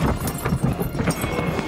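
Horses' hooves clop and scuffle heavily on muddy ground amid commotion, a close, busy thumping of straining animals pulling a cart stuck in the mud.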